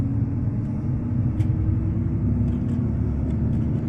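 Steady low engine rumble and road noise from inside a Primajasa bus travelling on the highway toward Jakarta, continuous and even with no talk.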